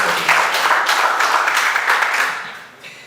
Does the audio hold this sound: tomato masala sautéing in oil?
no